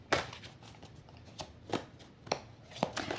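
Oracle cards are shuffled by hand in a few brisk riffling bursts, close and crisp, with short pauses between the strokes and no talking.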